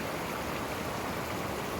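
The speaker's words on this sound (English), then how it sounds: "this is the water you can hear in the background rushing down off the hill there" A hillside stream in Blaen Bran Woodland near Cwmbran rushes steadily downhill, a constant broadband wash of water that fills the whole clip with no pauses.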